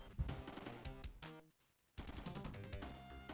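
Rapid explosive impacts and gunfire-like bursts from a bombardment in the Warsong strategy game, faint and dense, with a brief lull midway before the barrage resumes.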